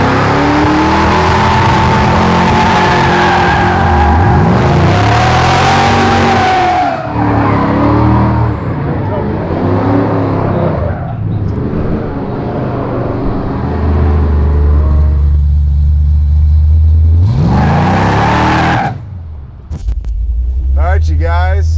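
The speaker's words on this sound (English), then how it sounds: "Time for big smoke and burnouts." A Dodge Charger General Lee muscle car roars through loud smoky burnouts, engine revving hard with screeching tire squeal in repeated bursts, close and dominant, with brief voices in between.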